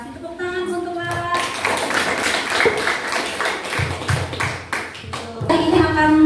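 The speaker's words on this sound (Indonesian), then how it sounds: "Tepuk tangan untuk Lara" Classroom applause for a student, a mix of scattered hand claps and taps from a group of pupils, steady and moderately loud, with voices talking over it at the start and end.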